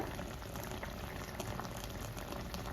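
Water bubbles at a steady rolling boil around pieces of cashew chicken in a pan on the stove, a close, constant gurgling simmer without any talk.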